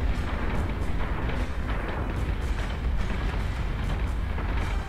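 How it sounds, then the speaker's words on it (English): A point-blank missile barrage in a Battlestar Galactica space combat video game makes a dense, continuous roar of rumbling blasts and mechanical clatter that stays loud throughout. "The point blank range missile barrage"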